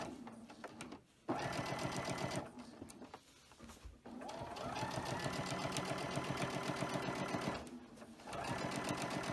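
Sewing machine stitching around a heart-shaped mug rug, a steady, close mechanical whir that runs in several bursts with short pauses between them.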